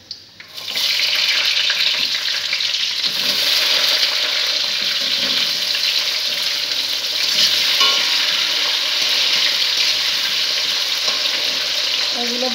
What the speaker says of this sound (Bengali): এগুলো ভাজা হোক, তারপর উঠায় পেস্ট করবো।